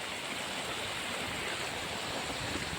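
Floodwater splashing across a road overflowing after heavy rain, heard as a steady, broad rushing wash of water, loud and continuous with no distinct individual splashes or talk.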